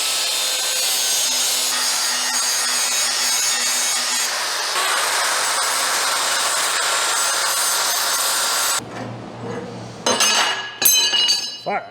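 A bevel is ground on steel being prepared for hardfacing in a welding shop, a steady abrasive rasp for about nine seconds, then stopping amid clinks and handling noises.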